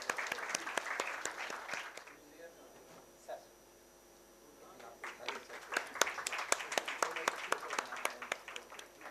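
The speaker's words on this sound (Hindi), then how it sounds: "और तालियों की गड़गड़ाहट से हम साथ देंगे" Audience applause at a tourism and peace lecture in Varanasi, a small crowd clapping in scattered bursts with a quieter gap in the middle while a voice speaks over a microphone.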